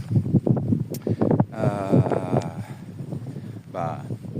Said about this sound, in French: Il y a déjà pas mal de vent.